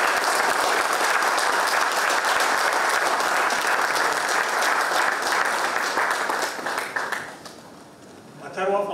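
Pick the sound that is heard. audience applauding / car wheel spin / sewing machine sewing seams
audience applauding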